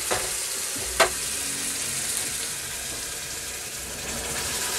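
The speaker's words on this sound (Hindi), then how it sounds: "अब इसमें चाशनी डालने की बारी आ गई है।" Sugar syrup is poured into semolina halwa in a hot pan, giving a continuous close sizzle and frying hiss with a sharp spit about one second in.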